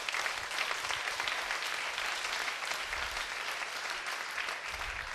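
A church congregation gives a steady round of applause after a sermon line, a dense even wash of clapping lasting several seconds without pause, moderately distant.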